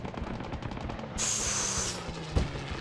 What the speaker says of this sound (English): Strafe comes in.